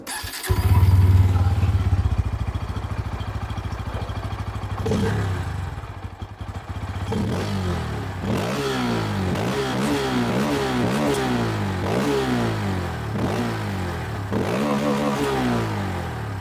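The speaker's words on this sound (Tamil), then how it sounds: "அண்ட் எக்ஸாஸ்ட் நோட் நான் இப்போ போடுறேன், ஸோ அது எப்படி இருக்குன்றதை கேட்டு வந்துடுங்க." A Bajaj Pulsar N160 motorcycle engine starts up and then revs repeatedly near the exhaust. Each blip rises and falls loudly in pitch, steady and close, with no speech over it.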